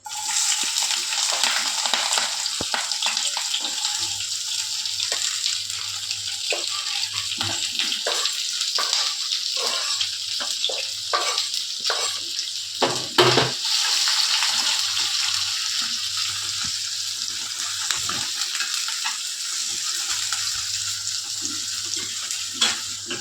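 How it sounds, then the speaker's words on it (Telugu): Onions and green chillies frying in a pan for egg tomato curry: a continuous close sizzle with repeated stirring scrapes and clicks, plus a low hum in the background. "ఇప్పుడు ఆనియన్స్ వేసుకుందాం. ఆనియన్స్, పచ్చిమిర్చి."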